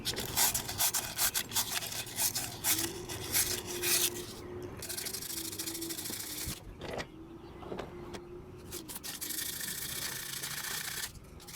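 Fine 2000-grit sandpaper scrubs rust off an old floor jack, a steady close raspy rubbing in repeated strokes with brief pauses.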